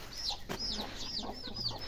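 Hens with their chicks cluck softly nearby, a series of short repeated calls with brief high chick chirps mixed in, steady and moderately quiet.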